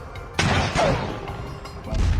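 Heavy shelling in a residential district of Kharkiv sends out several loud, booming explosion blasts in quick succession, each with a rumbling low tail, with an eerie whistling sound between them.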